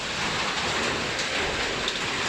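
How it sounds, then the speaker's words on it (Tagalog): Heavy rain pours down in a dense, steady hiss, loud and unbroken, with no voices. "Ah, lakas ang ulan."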